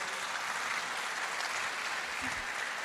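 Steady applause at an outdoor festival fills the whole stretch, a dense continuous patter of clapping with no pauses, moderately distant.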